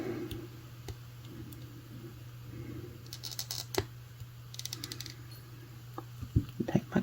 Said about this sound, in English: now I'm going to take my cutters, cut off the extra wire